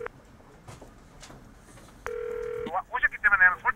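A telephone call is dialed during a Korean television news report: faint clicks, then a single steady tone lasting about half a second, followed by a voice.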